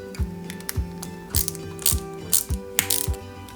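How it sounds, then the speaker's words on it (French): Small screw being driven into a 1/8 scale Jaguar E-Type model with a ratcheting screwdriver, a quiet series of about six rhythmic clicking ratchet strokes close to the microphone, no talking. "On prend ensuite la pièce ici et on la fixe avec une vis AG06"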